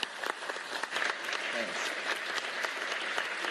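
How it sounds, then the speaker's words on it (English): Audience applause fills a meeting room at a religious liberty commission hearing, steady clapping from a crowd sustained throughout, with a brief word of thanks spoken over it. "Please give her a round of applause."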